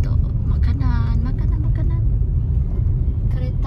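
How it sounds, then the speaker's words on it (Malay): A car idles and rumbles close by at an outdoor food area, a steady low engine drone that sits beneath people talking. "Kereta dekat sini."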